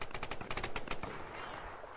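Rapid machine-gun bursts in a Tomb Raider multiplayer match, a dense string of close, sharp shots in the first second that thins into a fading tail.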